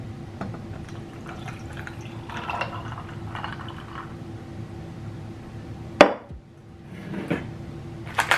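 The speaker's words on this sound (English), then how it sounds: "Pour the coffee in." Coffee pours steadily into a glass over ice, with a sharp clink of glass partway through and light handling noises.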